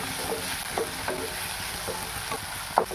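Ginger and garlic frying in hot oil in a pan while a vegetable curry is cooked, giving a steady soft sizzle with a few faint clicks of stirring, close and moderately quiet, no talking.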